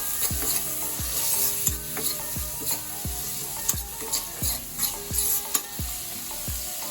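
A spoon stirs and scrapes through sizzling ingredients in a pan while turmeric is mixed in for Rayalaseema-style puffed rice uggani. Repeated rhythmic scraping knocks ride over a steady frying hiss.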